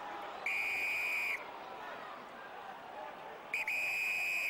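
Two long, loud blasts of a referee's whistle at a rugby union match between Gloucester and Sale, the first around a second long and the second after a short pause, over a steady crowd murmur.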